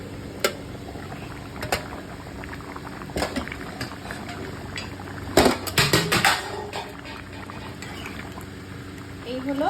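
Chicken curry bubbling in a pot on a gas stove, a steady low boiling hiss broken by clinks and scrapes of a utensil against the pot, close and moderately quiet.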